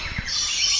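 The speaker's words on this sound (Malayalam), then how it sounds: "അതുകൊണ്ട് ഇത് ഫുള്ള് കിളികളാണ്. കിളിയുടെ കൂട്ടിലാണ് നമ്മൾ നിൽക്കുന്നത്." Birds chirping inside a walk-in bird enclosure at Ramoji Film City in Hyderabad, a dense high twittering chorus that swells and continues steadily after a few brief low thumps at the start.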